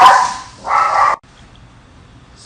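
A dog barks nearby, loud and clear: two quick barks in a row, then quiet room noise.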